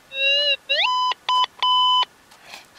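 Gold Monster 1000 metal detector sounding off over a buried target: a wavering tone followed by three loud, clean electronic beeps in a row, close by, then a faint trailing noise.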